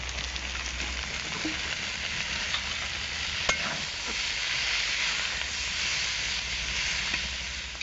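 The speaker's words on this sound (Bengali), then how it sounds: "এবার একটু সর্ষের তেল দিয়ে দেব।" Mustard oil is added to potato greens and bottle gourd peel cooking in their own released water, producing a steady soft hiss and simmering sizzle with faint stirring clicks and no speech.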